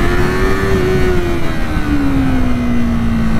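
An inline-two engine holds a steady, loud drone with a gently sliding pitch, its engine and exhaust note blending into a continuous buzzing hum heard from close up.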